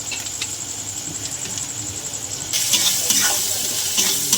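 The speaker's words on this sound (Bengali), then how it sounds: "ওটা পেঁয়াজের সঙ্গে কষে নেব, মশলার সঙ্গে।" Spices and onion sizzling in a pan while being stirred for a Bengali mustard fish curry with chanda fish, a steady close frying hiss that grows louder and busier halfway through, with scraping stirs.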